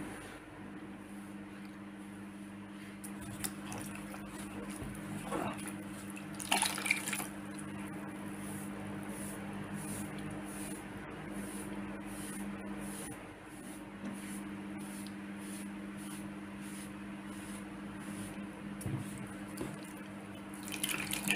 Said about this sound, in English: with the aid of a wet sponge, slowly take it off again